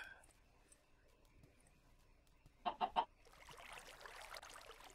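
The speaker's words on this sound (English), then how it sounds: "Oh, I got chickens." Chickens in Minecraft Feed The Beast give three quick, close clucks in a row, followed by soft rustling game sounds at low level.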